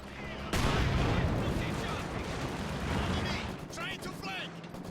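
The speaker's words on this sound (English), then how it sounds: "And this Pack actually shooting through the building quite effectively here." Pak anti-tank gun in Company of Heroes 2 blasts through a building, a sudden loud boom followed by a sustained rumbling, crackling battle din with scattered smaller shots, while someone talks over it.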